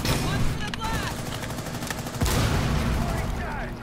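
Rapid gunfire bursts from a tactical shooter video game during a breach, with several volleys and a sharper shot midway, up close and loud, while players talk over the action.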